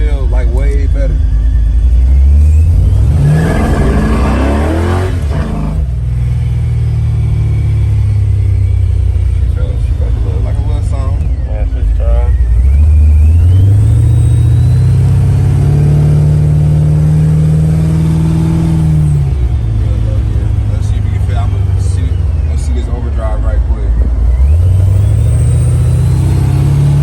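A 1988 Chevrolet Monte Carlo SS with a new O2 sensor revs repeatedly. Its loud, close engine rises and falls in pitch across several throttle blips, with a person talking over it throughout.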